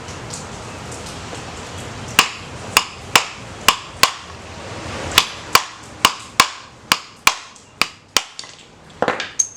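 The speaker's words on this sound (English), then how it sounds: "I have a 1/4 inch extension here that I'm using to finalize the driving process and push it through." Sharp metal hammer strikes drive a part out through a 1/4 inch socket extension, a dozen or so ringing blows in an uneven rhythm, loud and close with no talk.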